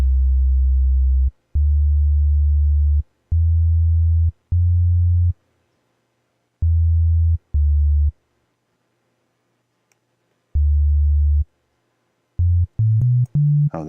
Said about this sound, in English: So that is a sine wave.